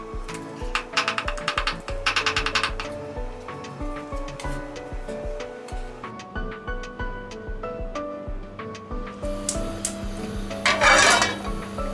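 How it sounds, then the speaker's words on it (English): Garlic being crushed and chopped on a board, with repeated knife taps and thuds in quick rhythmic bursts, a brief scraping rasp near the end, close and fairly loud with no talk. "Crush and chop the garlic."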